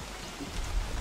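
Steady rain falls in the game Don't Starve Together, a dense, even hiss that swells slightly toward the end, with no voices.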